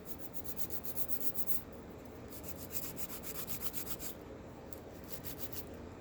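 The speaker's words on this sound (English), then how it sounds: "If you will take your file and file right here" A nail file rasps against a fingernail during coffin or ballerina shaping, quick rhythmic back-and-forth strokes in short bursts with brief pauses, close and fairly quiet.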